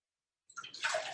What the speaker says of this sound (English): So to this, I'm going to add a little more of water.